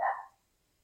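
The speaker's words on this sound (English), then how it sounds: "And that's our dog being brave in the background." A dog indoors lets out one short, moderately loud bark in the background, followed by near silence.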